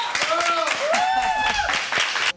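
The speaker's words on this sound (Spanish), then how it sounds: "el fuerte aplauso para ella" Studio audience applause on a television talk show, with clapping running under a presenter's continuing speech and a music sting, fairly loud and sustained.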